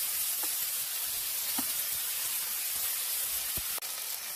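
A chilli double cheese smash burger sizzles on a hot griddle, a steady broadband hiss with a few faint clicks and taps, no voices.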